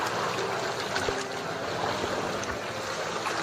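Water washes and surges against rocks in a small cove on the Camotes Islands, Philippines, in a continuous low rush with occasional splashes, moderately loud and steady throughout.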